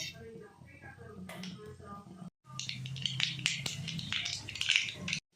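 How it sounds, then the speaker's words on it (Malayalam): Mustard seeds are dropped into hot coconut oil while a dried prawn curry is cooked. After a brief pause comes a close, dense burst of sharp crackling pops and spits. A voice speaks over the start. "വെളിച്ചെണ്ണ ചൂടാകുമ്പോൾ കുറച്ച് കടുക് ഇട്ട് കൊടുക്കുന്നുണ്ട് കേട്ടോ."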